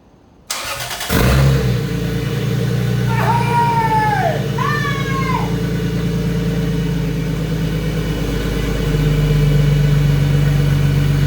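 A car engine starts abruptly, then runs and revs steadily, with a louder rise in revs toward the end; brief high-pitched squeals cut through the engine note midway.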